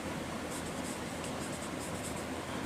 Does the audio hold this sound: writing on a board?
yes